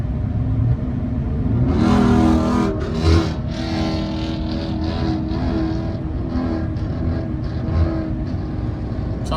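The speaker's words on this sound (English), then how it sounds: "Sounds like his engine's going to blow up." A nearby car on the road revs its engine hard, a loud throaty roar that swells and pulses over several seconds, heard from inside another vehicle on a highway drive.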